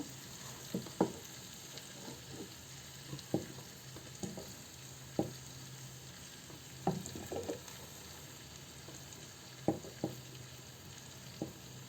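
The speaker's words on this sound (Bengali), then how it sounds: "একটু হালকা নাড়া দিয়ে নিই চুলাটা বন্ধ ঠান্ডা হয়ে গেলে কিন্তু ঝরঝরা হয়ে যাবে জাস্ট একটু নাড়া দেব" Chicken kabsa biryani rice gently stirred in a pot with the stove turned off: soft scattered scrapes and bumps of a spoon through the grains, fairly quiet with a faint low hum beneath, no talk.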